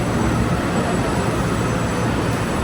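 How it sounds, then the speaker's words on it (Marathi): A train pulling into a station in Taiwan gives a loud, steady, close rumble throughout. "ही आली ट्रेन, तर आपण आता या ट्रेनमध्ये चढायचं"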